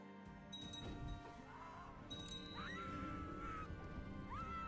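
A horse in Crusader Kings II whinnies in several rising and falling neighs over a busy backdrop of soft hoof clatter and light metallic clinks, fairly close and clear.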